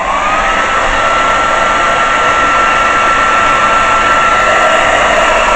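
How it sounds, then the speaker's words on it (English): Air blown onto wet acrylic paint on a large canvas makes a loud, steady whooshing roar with a faint whine, unbroken for several seconds. "I'm just going to give it another gentle blow."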